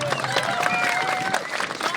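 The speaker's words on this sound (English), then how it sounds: "Also a big round of applause for Rana Gunkur from Afghanistan, who does so much work as well." At an outdoor Flotilla protest rally, a crowd claps and cheers in a brief burst of applause while a voice carries over the top.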